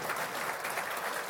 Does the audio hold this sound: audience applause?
yes